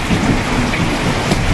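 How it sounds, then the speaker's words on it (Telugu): Heavy rain pours steadily in a loud, unbroken wash of noise, with a deep rumble of thunder underneath, close and with no voices. "అసలు వాన అయితే ఇంకా ముదిరిపోయింది"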